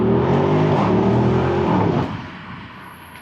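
An Audi RSQ8 Performance pulls hard up to 60 km/h, its engine note a loud, close, steady roar that swells and then eases off into a quieter rumble near the end.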